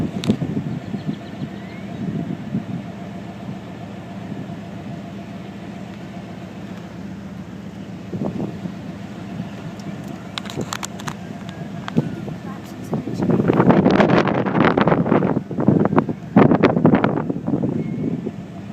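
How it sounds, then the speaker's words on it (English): Wind buffets a phone microphone outdoors near a fertilizer plant explosion in Texas, a steady rumbling roar that swells louder and gustier in the second half while voices talk faintly underneath. "wind blowing that way"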